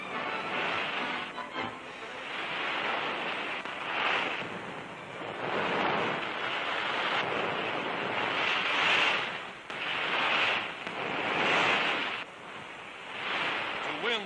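Ocean breakers roll and crash in steady surges, with surfers riding rubber surfboards through the surf; the roar swells and recedes every couple of seconds, loud and continuous, with no talk.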